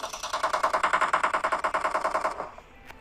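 Video game gunfire: a sustained rapid burst of automatic shots rattling at an even fast rhythm for over two seconds, loud and close, then abruptly stopping.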